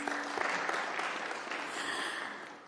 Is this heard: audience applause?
yes